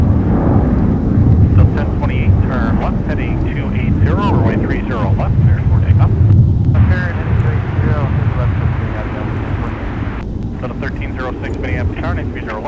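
A Delta airliner takes off from a wintry MSP airport with a loud, sustained roar and rushing wind, while radio voices speak over the engine noise.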